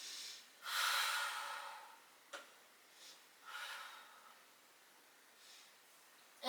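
Soft breathing in and out during a seated spinal twist, a few faint airy breaths with a small click between them, heard close and alone at low volume.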